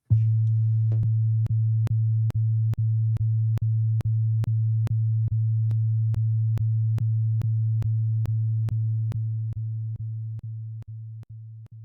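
A steady electronic test tone at a low pitch plays alone and loud, with faint regular clicks ticking through it, holding for about ten seconds before fading gradually toward the end.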